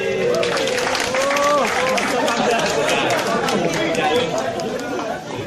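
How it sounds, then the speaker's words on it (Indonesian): An audience clapping during a gas leak safety demonstration, steady applause mixed with loud crowd chatter and a voice talking over it throughout. "Nah, tepuk tangan dulu."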